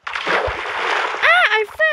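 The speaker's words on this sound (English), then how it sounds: "that one fell into the ocean" In a Minecraft game, an axolotl drops into ocean water with a short, bright splash, followed by quick squeaky gurgling tones, close and fairly loud, with a voice talking briefly at the same time.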